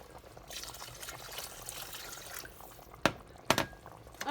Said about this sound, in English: And then add water.